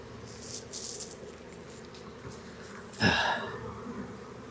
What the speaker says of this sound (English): there's a fair amount of bees in this box